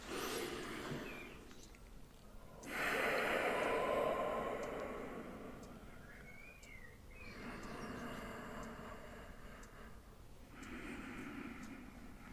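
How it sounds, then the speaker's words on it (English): Slow, deep belly breaths: two or three long, soft, airy swells of inhaling and exhaling, close and quiet, with faint birds or insects in the background. "So let's just do a couple of deep belly breaths."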